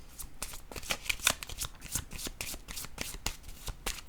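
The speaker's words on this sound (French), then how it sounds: "Je vais déposer une carte rose sur le travail." Playing cards are shuffled and handled in a steady run of soft, papery riffles and flicks, close and clear with no talk, as a pink tarot-style card is laid down during a reading.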